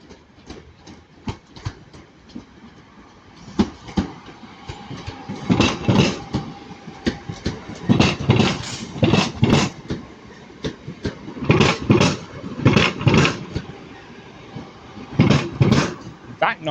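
British Rail Class 323 electric train leaving Manchester Piccadilly, rolling wheel clatter building into loud, rhythmic thumping bursts over the rail joints, with a voice speaking over the start.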